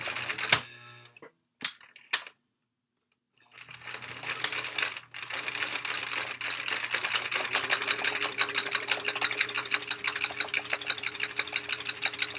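A sewing machine back stitches a tote bag strap: a few short stuttering bursts and a pause, then a long, steady, rapid whirring run of stitches, close and loud.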